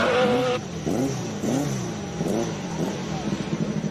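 A high-revving hill-climb race car engine, rated to 11,000 RPM, screams and pulses through repeated rises and drops in pitch, loud and close, with faint talk beneath.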